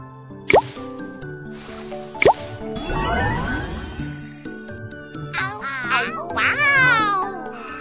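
A cartoon cat-like creature meows in a Baby Panda math game, several rising, whiny cries near the end over light game music, with earlier plops, drips and tinkling effects.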